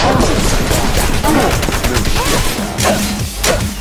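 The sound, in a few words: gunfire in the video game Wanted: Dead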